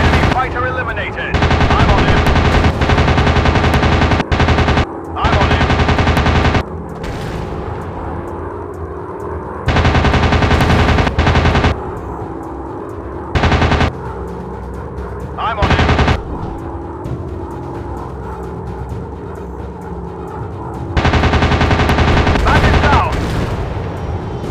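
Rapid machine gun bursts from fighter planes in an RAF air combat video game, loud repeated strafing volleys separated by brief gaps of engine drone.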